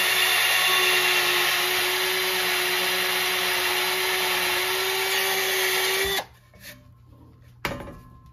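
A DIY piloted spade bit bores a countersink for a screw: a loud, steady power-drill whine runs unbroken for about six seconds, then cuts off and leaves quiet handling clatter.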